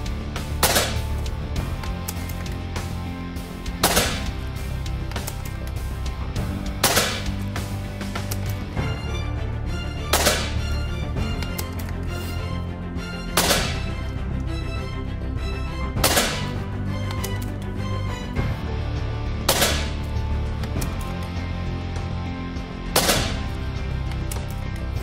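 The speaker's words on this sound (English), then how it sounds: "We're gonna test the accuracy of this gun by unloading an entire 10-shot magazine at our target downrange at 20 yards." A Daystate Huntsman Regal XL air rifle fires a 10-shot magazine indoors at a target 20 yards away, giving sharp, loud cracks spaced a few seconds apart over a steady background hum.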